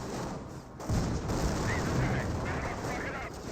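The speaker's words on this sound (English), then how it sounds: "mortar in place got a good hit there on the rifleman" Mortar shell impact in the World War II strategy game Company of Heroes, a sudden loud low boom near one second followed by a rumbling, crackling battle din and distant gunfire.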